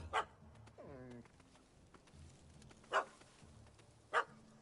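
A puppy in Witcher 3 barks in three sharp, separate yaps spread across the moment, with a brief whine between the first and second, set against quiet game ambience.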